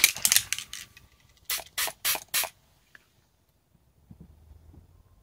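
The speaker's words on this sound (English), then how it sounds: "I'm just using a little of this setting spray from Temu" A quick burst of makeup setting spray, then four short, sharp pumps of the spray bottle close by, followed by faint handling noise.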